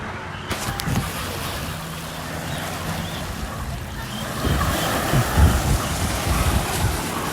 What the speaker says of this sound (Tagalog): pag pupunta siya dito, umaalon, nalakas ng alon, oh.